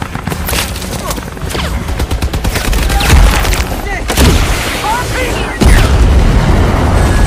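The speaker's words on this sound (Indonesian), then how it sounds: "Baku tembak-tembak pun terjadi yang mana helikopter bantuan hampir saja terkena tembakan RPG." Rapid bursts of gunfire crackle with heavy booms of explosions, dense and loud throughout, with a few faint shouted voices mixed into the chaotic battle noise.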